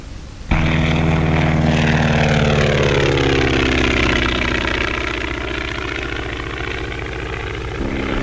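A skywriting airplane's engine drones steadily and loudly as it flies loops and Immelman turns, its pitch slowly wavering and bending throughout the manoeuvres.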